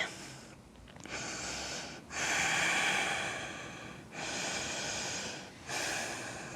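Slow, deep breathing during a vinyasa yoga flow, heard up close as long airy inhales and exhales alternating in a steady rhythm, with no talking.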